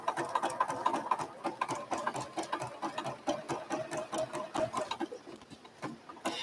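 A sewing machine runs close by, stitching thread through fabric for a landscape project in a quick, even mechanical chatter that keeps going with slight pauses in speed.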